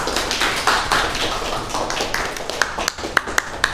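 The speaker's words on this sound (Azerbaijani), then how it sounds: "Alqışlar." Applause from a studio audience on a school maths quiz show for fifth-grade pupils, mostly scattered claps that give way to a few sharp, separate claps near the end.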